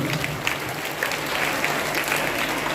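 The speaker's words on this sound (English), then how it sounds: "Let us give her a round of applause" An audience at a school oath-taking ceremony claps together in a steady, full round of applause that carries evenly from start to finish.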